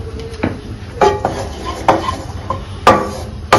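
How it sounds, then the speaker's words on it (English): Babbarla fry being stirred in a pan with a spoon, giving a few distinct clinking scrapes against the metal at irregular intervals, close and fairly clear with no talking. "Now wait some time and mix it."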